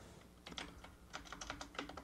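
Fingers type a login ID and password on a computer keyboard, a quick, uneven run of crisp, close key clicks with no voices.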